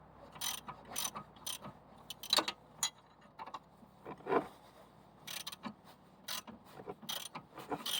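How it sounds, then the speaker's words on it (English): A hand ratchet threading a nut onto a front strut bolt on a 1993–1997 Ford Probe or Mazda MX6, giving quiet close bursts of rapid clicking strokes with short pauses between them. "I'm using a wrench on the one side and using the ratchet to put the nut on"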